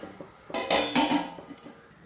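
A metal lid clanks down onto a cooking pot of cassava simmering in hot water, giving a few sharp, close metallic knocks and rattles in quick succession before quiet returns.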